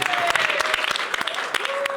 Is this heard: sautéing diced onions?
no